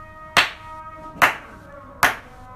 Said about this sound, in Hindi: तीन बार ताली बजाया